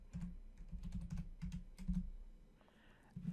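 Quiet, rapid clicking of keys on a computer keyboard as a folder name is typed, an irregular run of close taps with a brief pause near the end.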